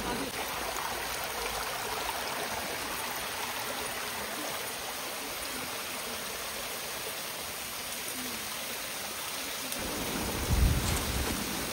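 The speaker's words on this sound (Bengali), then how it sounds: "যে পাহাড়ি ঝর্ণার একটা কলকলো আওয়াজ এবং একটা ঠান্ডা অনুভূতি" A babbling mountain stream at Jayanti in the Buxa hills of North Bengal rushes steadily in a dense, even wash of water noise, close and loud throughout, with a brief low thump near the end.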